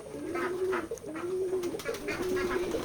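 Pigeons coo in a steady rhythmic series of low rolling calls, close and clear, at a pigeon farm in Betikhola village, Keshabpur, Jashore.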